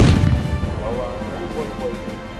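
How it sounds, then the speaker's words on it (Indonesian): A blast goes off at a target during a TNI AD (Indonesian Army) combat exercise demonstration in Baturaja, a heavy low boom up front that rolls into a sustained rumbling tail, loud and fairly near. "Terdengar ledakan di sasaran 5"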